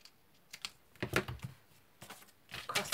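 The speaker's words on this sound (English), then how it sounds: "So lay some tape just along that edge." Adhesive tape pressed and smoothed along the edge of a handmade Christmas aperture card, heard as a few close, soft crackling and rubbing bursts in a quiet room with no talking.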